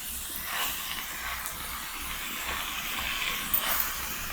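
Country chicken meat sizzles steadily in a hot pan during village-style curry cooking, a continuous soft hiss with faint scraping as it is stirred, no talk.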